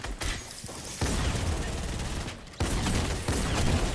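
Dense, continuous video game gunfire fills the space, a loud sustained fusillade with brief lulls around the middle before the shooting surges back.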